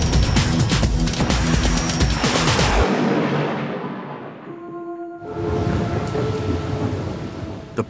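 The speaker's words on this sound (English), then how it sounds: "The power of a thunderstorm matches that of a nuclear bomb." A loud crashing burst of thunderstorm thunder cracks and rolls, fading into a long decaying rumble before a second softer rumble swells near the end, heard alone with no talking.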